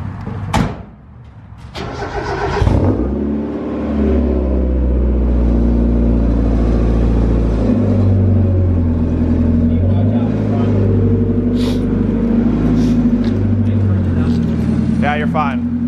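A Mazda Miata's engine idles and rumbles steadily as the car is driven out, a loud low drone that carries through the clip with voices talking over it.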